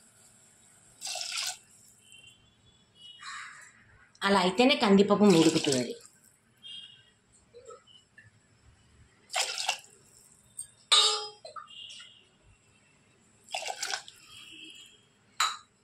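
Water is poured from a glass into an indoor cooking pot of toor dal for chukka koora pappu. It comes as one splashing rush of about two seconds, framed by someone talking and a few small clinks.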